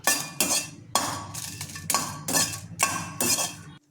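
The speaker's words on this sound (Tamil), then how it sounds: "1/4 ஸ்பூன் எண்ணெய் விட்டுக்கலாம், வறுத்துக்கலாம்." A pan of dried red chillies is stirred in a quarter spoon of oil, giving about eight quick, rhythmic bursts of scraping clatter, close and moderately loud, with no speech.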